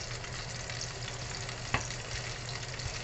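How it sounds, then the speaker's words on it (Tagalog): Beef steak frying in avocado oil, a steady broadband sizzle with a sharp spatter pop near the middle; close, continuous, no voices. "Pangit naman itong avocado oil guys. Manalsik."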